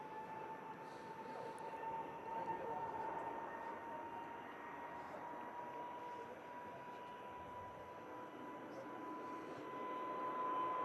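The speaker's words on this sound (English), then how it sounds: "Beautiful aircraft. Sounds great." A jet aircraft at Manchester Airport gives a steady, fairly distant engine roar with a sustained whine throughout, swelling slightly toward the end, with no talk over it.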